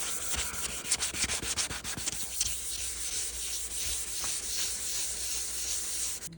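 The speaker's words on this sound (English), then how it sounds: "So you need to try and sand it down" A car headlight lens is hand sanded with a Holt's headlight restore kit. Quick, rhythmic rubbing strokes at the start settle into a steady, close gritty scrubbing with no talk.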